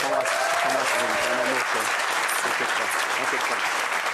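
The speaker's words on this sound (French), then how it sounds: "on peut applaudir Aurélie." A live audience applauds loudly and evenly at an event in France, dense continuous clapping filling the whole stretch, with a voice speaking briefly over it at the start.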